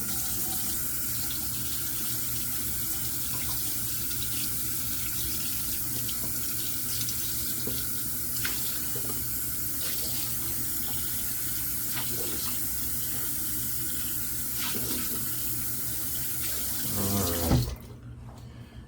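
A tap runs steadily into a sink for washing the face, a loud and continuous splashing stream that stops abruptly near the end.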